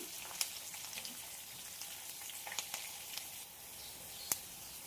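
Beetroot pieces fry in a pan until golden brown, giving a soft, steady sizzle with scattered faint crackles and pops throughout, with no talking.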